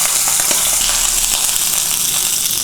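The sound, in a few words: searing confit-oiled steak in a pan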